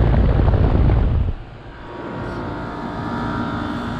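Trane XR13 2.5-ton heat pump outdoor unit from 2012, running in cooling mode while badly frozen up, gives a loud close broadband fan roar that drops briefly then settles into a steadier hum.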